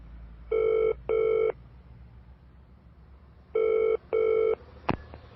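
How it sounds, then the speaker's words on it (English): A telephone ringing on an outgoing call, heard from the caller's end: two pairs of steady, clear double rings separated by a pause, followed by a sharp click as the line is picked up. "So I found my phone and called Wing."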